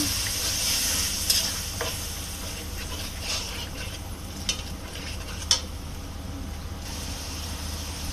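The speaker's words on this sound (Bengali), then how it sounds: "সামান্য পানি দিয়ে দিলাম মশলা কষানোর জন্য।" A spice paste of ground garam masala, turmeric and chilli powder with a splash of water sautés in a pan for chicken and potato curry: a steady close sizzle with occasional stirring clinks of a utensil against the pan.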